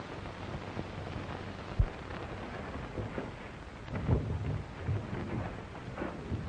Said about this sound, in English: It sure is raining.